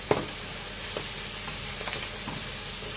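Mushrooms frying with soy sauce in a pan, giving a soft steady sizzle with a few light stirring knocks, close but fairly quiet, and no voices.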